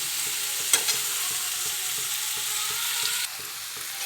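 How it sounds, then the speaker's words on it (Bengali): Fried jackfruit pieces and potatoes stir-fried in masala, with steady loud sizzling and repeated scraping stirs of a spatula in the pan, no voices. "ভাজা ইঁচড়গুলো দিয়ে আলুগুলো দিয়ে মশলাটা সুন্দর করে কষিয়ে নেবে"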